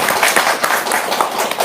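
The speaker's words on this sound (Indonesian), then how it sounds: "Tepuk tangan dong, Bos" An audience bursts into loud, dense clapping at a talk on getting rich, a continuous close wash of applause.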